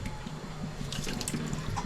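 Water sloshes and swirls steadily in a vessel, close up, as barnyard millet grains are rinsed by hand, with no talking.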